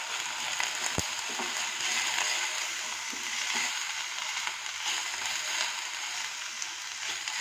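Green beans sautéing in a pan for a chicken salad, giving a steady, moderately loud broadband sizzle with faint stirring scrapes and one sharp knock of utensil on pan near the start, no voices.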